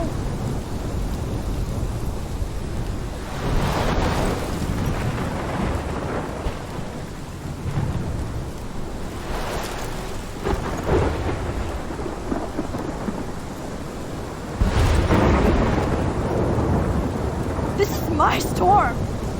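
A thunderstorm in Life Is Strange brings steady heavy rain and repeated rolling thunder claps, with a loud close crash near the end.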